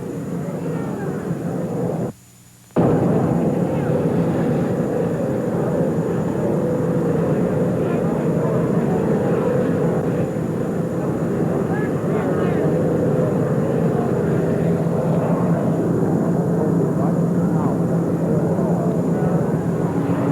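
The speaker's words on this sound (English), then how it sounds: "An Army helicopter has just landed, making a great deal of noise." Loud, steady roar of an Army helicopter engine and rotor as it lands, dense and continuous with one brief dropout, a voice talking faintly underneath.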